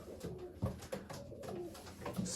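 Breeding pigeons in a loft give soft, low coos in short repeated phrases, faint and close in a quiet space.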